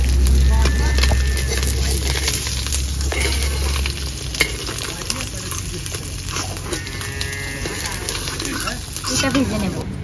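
Bele fish with eggplant frying in a pan, a loud continuous sizzle and crackle with stirring clatter, with a low hum at the start and a few sharp scrapes.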